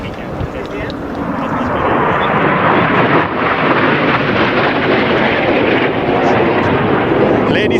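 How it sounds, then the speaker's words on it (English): Italian Navy jet aircraft making a fast low pass at the NATO Days and Czech Air Force Days air show, a loud, sustained broadband engine roar that swells and holds steady throughout. "now he's coming back again for a final high-speed,"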